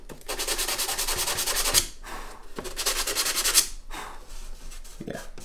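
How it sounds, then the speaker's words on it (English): Sandpaper rubs by hand across a wooden acoustic guitar soundboard in quick back-and-forth strokes, two long bursts and a shorter third, close and clear with no talking. "let me just get some sandpaper and smooth that out real fast"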